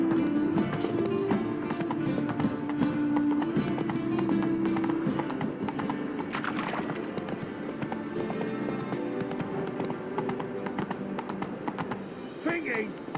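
Horse hooves clip-clopping in a steady gallop rhythm in The Witcher 3, continuous over ambient game sound, with a voice talking at times.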